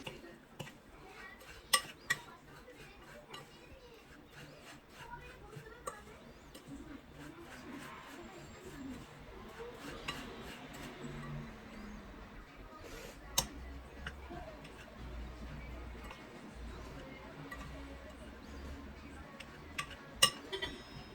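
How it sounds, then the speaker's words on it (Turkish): A crushed petit beurre biscuit mixture for cezerye is stirred in a pan, giving quiet, steady scraping and ticking with a few sharper clinks of the utensil against the pan over a long stretch. "Onu da üzerine ekledim. Güzelce karıştırıyorum."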